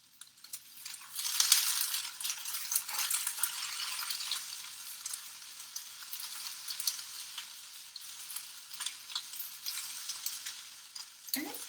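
Green beans frying in oil in a pan on medium heat, a steady close sizzle and crackle with occasional stirring rattles throughout.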